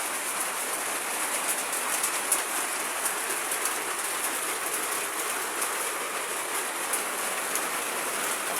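Heavy rain with wind pours down steadily and loudly in a dense, unbroken hiss. Faint patters rise and fall through the roar, and no one speaks.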